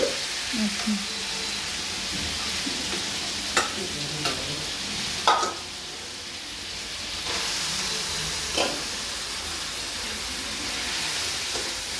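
Fish sizzles and hisses steadily as it fries in hot oil, with occasional clinks of a utensil stirring the pan.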